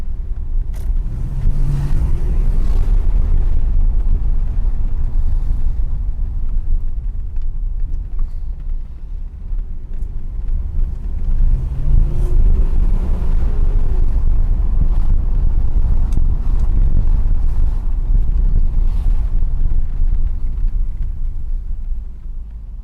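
A 1979 Mercedes W126 500 SE with its V8 and the muffler deleted, heard from inside as a loud, steady low rumble that swells at times, with wind noise over it.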